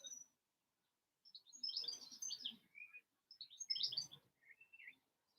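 Birds chirp outside in two faint bursts of quick, high tweets separated by short silences, heard alone at a distance.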